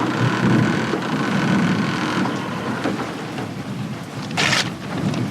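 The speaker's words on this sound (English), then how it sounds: "The day before the scheduled rocket launch, a typhoon arrives." Heavy typhoon rain pours down in a dense, continuous wash, with rumbles of thunder rolling beneath it and a sharper crack near the end, loud and close throughout.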